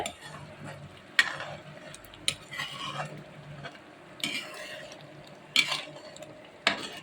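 Coconut-based fish curry (vazha meen kuzhambu) bubbles in a pot beneath a soft simmering hiss, broken by several sharp clinks and scrapes of a spoon stirring against the metal.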